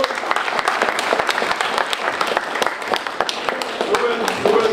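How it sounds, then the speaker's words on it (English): Town hall audience in Brookings applauding for Jim Rogers at a senator's event: dense, steady clapping from many hands fills the room throughout, with voices faintly mixed in near the end. "let's have a big round of applause for Jim Rogers"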